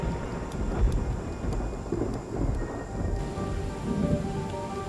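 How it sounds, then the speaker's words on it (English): A tropical thunderstorm over jungle in Singapore, steady heavy rain hissing on foliage with low rumbles of thunder rolling beneath, continuous and fairly loud throughout. "A storm is brewing."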